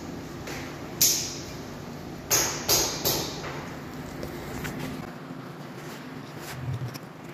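Metal brake retaining springs pried off the front brakes of a 2019 Kia Forte: several sharp metallic clinks and snaps, one single then a quick cluster of three, over quiet garage background.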